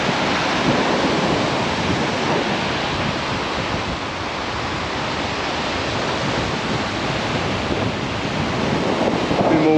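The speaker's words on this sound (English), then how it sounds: "Waves breaking out a little bit further now" Waves breaking at Southbourne Beach in Dorset while fishing from the shore, a steady roaring surf wash with heavy wind buffeting the microphone, loud and continuous with no clear individual breaks.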